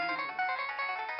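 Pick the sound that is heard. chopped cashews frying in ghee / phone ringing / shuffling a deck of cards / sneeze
phone ringing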